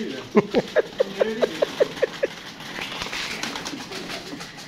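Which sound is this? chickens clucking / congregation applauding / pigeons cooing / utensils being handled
pigeons cooing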